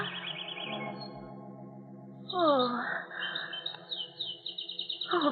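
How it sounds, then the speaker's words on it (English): Caged birds chirp and trill in quick repeated bursts at close range, rising to a busier chorus in the second half, while a person briefly speaks over them. "Those birds, I don't like them."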